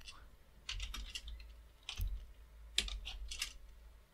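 Quiet clicks of fingers typing on a computer keyboard come in short, irregular bursts of keystrokes with brief pauses between them.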